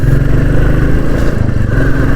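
A recently serviced Royal Enfield Classic 350 BS6 motorcycle runs close by, its engine giving a loud, steady thumping drone with slight revving throughout.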